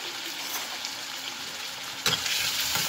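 Crushed garlic sautéing in a pan for a tomato potato gravy, a continuous close sizzle and crackle with a brief burst of louder spattering near the end; no voices.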